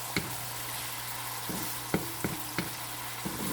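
Chicken pancit ingredients with fish sauce and soy sauce being stirred in a pan, a soft steady sizzle under a handful of sharp utensil scrapes and clacks against the metal, no talking.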